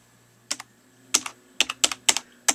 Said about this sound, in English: And then type in what is wrong.